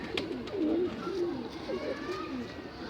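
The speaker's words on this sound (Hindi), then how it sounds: "सहारनपुरी कबूतर है" A Saharanpuri pigeon, a home-bred bird, coos in low repeated rolling phrases close by, with faint background noise and no talk.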